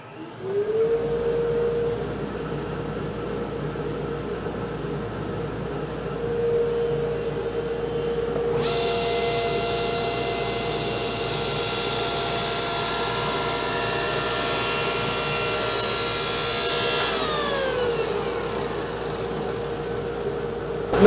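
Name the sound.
oscillating tool cutting out waste wood piece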